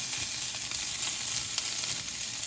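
Asparagus sautéing in a pan gives off a steady, close sizzle and crackle, with faint stirring movement and no talking.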